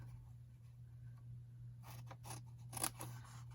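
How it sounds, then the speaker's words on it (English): Scissors cutting paper down a scored fold line, heard as a faint, close run of crisp snipping and rustling strokes in the second half after a quiet stretch. "I'm going to cut down the score line"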